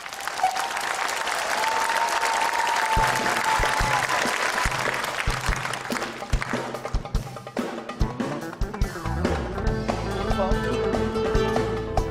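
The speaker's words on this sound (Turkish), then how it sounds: "halde hanımlar beyler, Ersin için imkansız karaoke alkışlarınızla başlıyor" Audience applause opens a karaoke act on a comedy show: loud, sustained clapping for several seconds, then thinning out as music with a beat comes in underneath and takes over.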